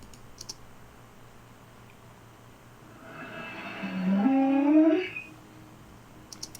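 Reversed sound effect slowed down and pitched lower in Reaper, a murky swelling drone with a descending-then-rising tonal sweep that builds over a couple of seconds and cuts off, aiming for a space-monster feel.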